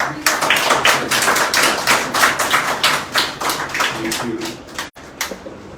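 Applause from the audience at a caregivers' felicitation ceremony for the Asha Society, with dense, close, irregular claps that keep up and fade slightly near the end.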